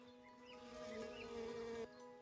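A single honey bee drinking from a dish of sugar water at an experimental hive buzzes close and steady, its drone briefly swelling before dropping away near the end.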